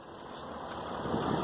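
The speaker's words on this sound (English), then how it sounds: "Notice that the engine is very quiet." A 2012 Mercedes-Benz ML350 diesel idles quietly with a low, steady engine hum heard up close and alone, rising slightly toward the end.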